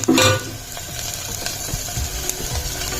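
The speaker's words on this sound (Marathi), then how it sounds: "मसाला छान असा परतून घेणार आहे." Masala for Marathwada-style chicken rassa fries and gets stirred in a pan, a soft sizzle with scraping spoon strokes and a short louder burst at the start.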